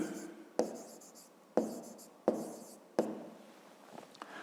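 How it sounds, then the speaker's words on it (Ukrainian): Pen strokes on paper while a fifth-grade maths problem is written out, with four distinct sharp taps followed by scratchy writing, quiet and close in a still room. "Ну і записуємо тоді"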